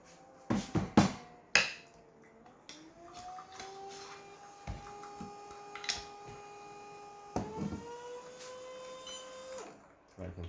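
A VBM Domobar Super Electronic espresso machine flushes its group head, a steady droning pump whine with a few clanks and clicks at the start and end, heard close up.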